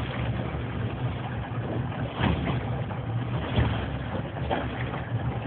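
A steady low engine drone of a boat on water, continuous and moderately loud, with some wind and water wash over it.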